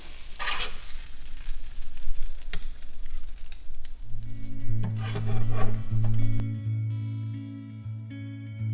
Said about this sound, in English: we're going to get the Salisbury steak on into the pan and get it browning